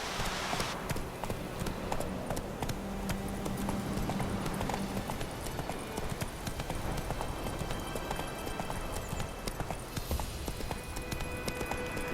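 Steady clip-clopping hoofbeats of Geralt's horse Roach galloping in The Witcher 3: Wild Hunt, a continuous driving rhythm close and clear throughout, with a brief low hum of other sound early on.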